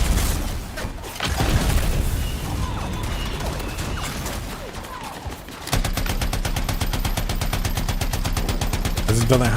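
A powerful turret-style gun firing in the video game Anthem: scattered blasts and crashes give way to a sustained rapid stream of loud, close shots, with faint voices mixed in.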